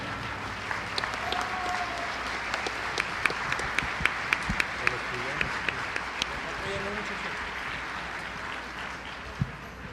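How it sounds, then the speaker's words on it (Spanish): Strong applause from a gathered audience welcoming a priest, a continuous wash of many hands with sharper individual claps popping out, plus some background voices and room noise. "Recibimos al Padre Fernando con un fuerte aplauso."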